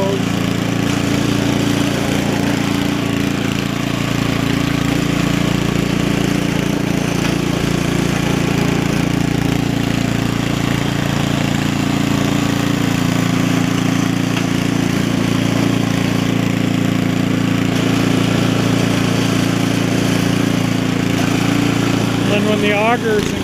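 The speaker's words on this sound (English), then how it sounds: "the auger's engaged, it's not all rumbly and noisy." An Ariens ST724 snowblower engine runs steadily with its auger engaged, giving a loud, even mechanical drone that stays constant throughout while someone talks over it.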